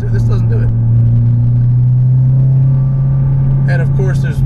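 A modified Mazdaspeed6 cruises along, its engine holding a steady droning hum inside the cabin while someone talks briefly at the start and again near the end.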